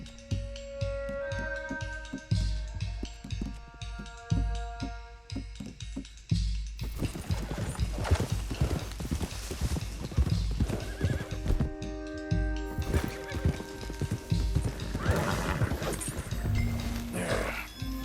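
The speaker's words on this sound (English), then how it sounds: "One of the stallions is loose." In the Red Dead Redemption 2 video game, a loose stallion neighs and whinnies repeatedly over clip-clopping hooves, loud and close, while other game sounds play around it.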